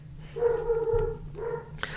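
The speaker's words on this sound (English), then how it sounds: "That's barking. That's my dog." A dog barks and whines in two drawn-out, tonal yelps, moderately close, with a brief thump in between.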